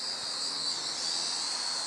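A Kapture GPS 2 small drone hovers nearby, its propellers giving a constant high-pitched whine and buzz that stays steady and unbroken.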